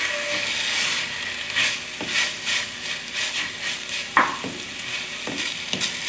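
Vegetables and chicken being stirred in a soup pot for a curry-flavored rice soup, a sizzling bed cut by repeated scraping strokes and clacks of a utensil against the pot, with no talking.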